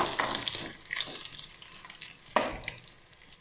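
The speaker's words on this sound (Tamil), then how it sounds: "நல்லா பொரியட்டும்." Black pepper frying in a pan for millet (thinai) pongal, giving soft crackles and sizzling with a couple of sharper spatter bursts, close and fairly quiet, with no talking.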